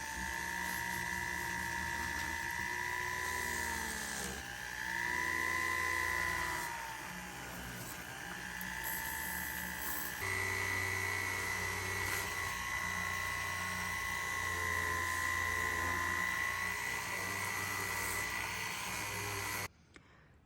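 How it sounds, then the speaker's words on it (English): Small buffing wheel spinning with a steady high whine while polishing jewelry edges with compound, the pitch dipping slightly under load, running continuously until it stops at the end. "I'll just use my little wheel instead of my buff on a lathe"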